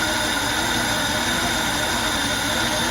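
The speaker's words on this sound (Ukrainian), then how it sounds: "Ну, коротше, двигун працює, на мою думку." A welding machine's engine idles steadily at very low revs, a constant close rumble with a faint whine and slight shaking, no voices.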